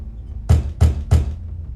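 Three firm knocks on a door in the game The Wolf Among Us, evenly spaced and close, each a dull thud with a short ring-off, heard alone.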